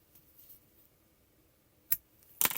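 Scissors snip through a long tail of yarn while a crocheter works on festive Christmas granny squares, giving one sharp close snip and then a louder, crisper cut a moment later in an otherwise quiet room.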